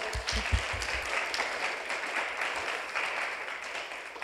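An audience at a Seoul fashion industry conference applauds the speaker after a talk, a moderate, continuous patter of clapping hands, with a few low thumps early on, that fades slightly toward the end.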